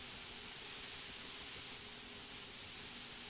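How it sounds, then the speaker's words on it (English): The second turbine engine of a Mil Mi-8 helicopter in DCS World spools up as a steady, faint broadband whine and rush, continuous with no voices over it. "Second engine also starts up."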